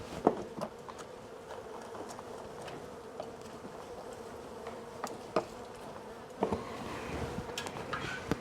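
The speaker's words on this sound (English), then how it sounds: "I'm just going to basically dust them into this, and then I'm going to drop them in there." Bees in a swarm being extracted by hand keep up a steady, dense buzzing throughout, broken by a few sharp knocks and bumps from handling nearby.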